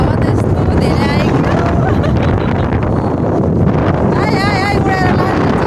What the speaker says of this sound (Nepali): हावा त यस्तो धेरै आयो